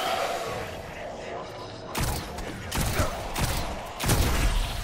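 Gunfire in the video game Destiny comes as bursts of sharp, loud shots with thuds, starting after a quieter stretch and repeating in clusters while players talk over it.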